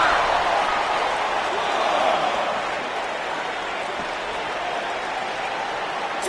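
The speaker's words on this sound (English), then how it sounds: "We've got a raucous crowd here in Philadelphia tonight" Loud, continuous roar of a wrestling arena crowd in Philadelphia cheering during a match, a dense steady wash of voices with a sharp thud near the end.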